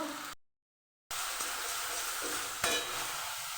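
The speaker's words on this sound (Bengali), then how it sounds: "ভালোভাবে আমি মশলাটাকে কষিয়ে নেব" Ginger-garlic and green chilli paste frying in a pan as the spices are cooked down, a steady close sizzle with a short break of silence and a single louder scrape of the spoon.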